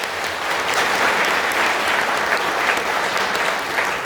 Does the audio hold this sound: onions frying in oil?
no